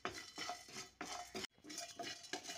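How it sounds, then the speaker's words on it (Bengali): Whole spices including pepper and mace being dry roasted in a pan for rezala, heard as repeated scraping and clinking strokes of a spoon stirring against metal, close and fairly quiet, with no talk. "এবার গোটা মশলাগুলো একটু ড্রাই রোস্ট করে নিচ্ছি।"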